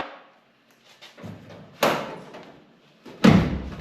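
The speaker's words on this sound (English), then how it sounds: "let's get the door back open here." The door of a 1969 VW Bus is worked open during a dog leg repair, with a soft rattle followed by two solid metallic thuds and clunks, close up.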